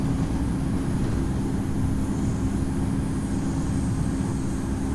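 Singapore Airlines A350-900 taking off in the video game Infinite Flight, a steady, loud, low engine roar with a constant hum, unbroken and without talk.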